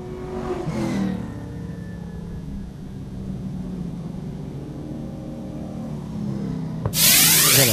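Late model race cars accelerate around a dirt oval during a fall classic event, a broad engine roar passing by early on, fading to a distant rumble before a loud close burst at the end.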